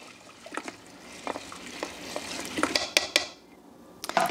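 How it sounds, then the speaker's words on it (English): Food being stirred in a cooking pan, likely lentils: a spoon clinks and scrapes against the pot in irregular strokes, close and fairly loud, with sharper metallic knocks near the end and no talking. "So we're just gonna stir this up."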